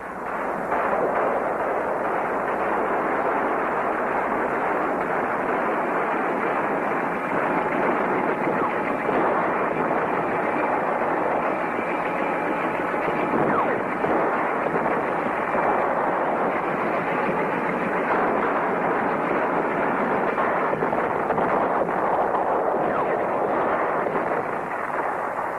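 Heavy artillery bombardment at the Khe Sanh combat base in 1968, a continuous dense roar of shelling with no distinct pauses between impacts, loud and sustained throughout.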